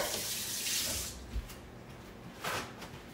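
Chablis pink wine and juice from marinated meat are poured into a pot for Portuguese sopas, a splashing liquid stream that stops partway, followed by a few short pours and drips nearby.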